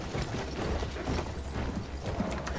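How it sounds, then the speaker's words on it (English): Horse hooves clip-clop at a steady, continuous pace in the Battlefield 1 video game, under a dense wash of battlefield noise with no speech. "This horse will come in handy."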